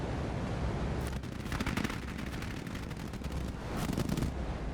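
Rapid machine-gun fire from a 1944 bomber's tail gun aimed at a Messerschmitt Me-163, coming in two distinct bursts of fast rattling shots over a steady background rumble.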